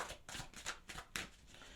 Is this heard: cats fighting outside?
no